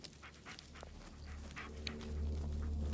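A dog pants softly in the horror game Blair Witch, quick rhythmic breaths close by, faint, with light footsteps and ambient forest noise.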